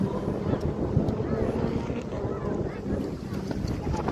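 Motorboats racing on open water, a continuous rumbling engine drone mixed with wind buffeting on the microphone, steady and fairly loud throughout.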